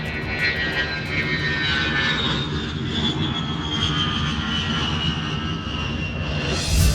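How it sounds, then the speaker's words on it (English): An aircraft taking off, a loud sustained engine roar with a rising whine, steady and close throughout. "the aircraft can take off"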